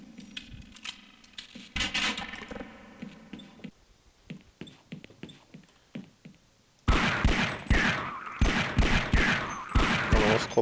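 Gunfire in the video game Half-Life: bursts of rapid shots, at first sparse and metallic, then a loud, dense volley of repeated shots after a short lull.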